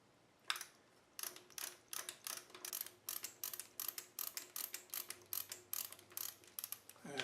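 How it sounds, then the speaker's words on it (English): A tap chases 1/4-20 threaded holes in a metal shop part during a DRO install, giving close, repeated ratchet-like clicking bursts in a steady rhythm with no talking. "So what I'm going to do is I'm just going to chase these holes here, these 1/4-20s."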